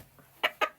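A chicken gives two short, close clucks in quick succession after a brief quiet moment.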